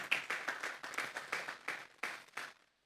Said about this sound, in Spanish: Vamos a darle un segundo aplauso al Señor esta tarde.